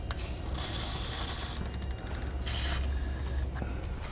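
Aerosol lubricant sprayed onto truck bolts on a 2017 Ford F-53 chassis: two distinct hissing bursts, close and fairly loud, separated by a short mechanical rattle, with no talking.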